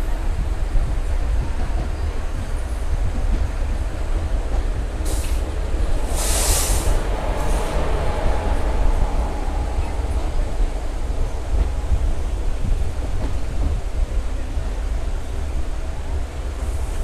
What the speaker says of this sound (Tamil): பக்கத்தில் பார்த்தீங்கன்னா ஈரோடில் இருந்து திருச்சிராப்பள்ளி போகிற பேசஞ்சர் ட்ரெயின்